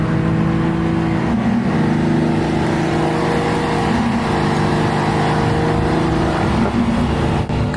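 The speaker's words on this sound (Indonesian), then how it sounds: "Aku ingin mendengar Ferrari ini berakselerasi." A 700-horsepower Ferrari sports car accelerates, its engine droning loud and steady with a rising, revving tone heard from inside the car.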